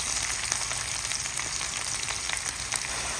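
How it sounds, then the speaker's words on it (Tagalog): Garlic, onion and ginger sautéing with fried chicken in a pan, a steady close sizzle with soft crackles and faint stirring, no talking. "ginigisa ko na po ang ating bawang, sibuyas, at ang ating luya together with our fried chicken"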